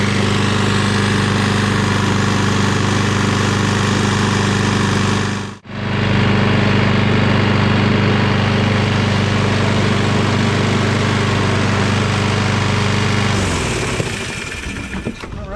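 A Kohler lawn tractor engine drones steadily at close range, loud and even, with a brief dropout midway and a rougher, shifting tone near the end.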